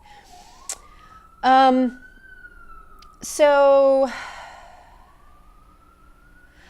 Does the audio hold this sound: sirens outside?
yes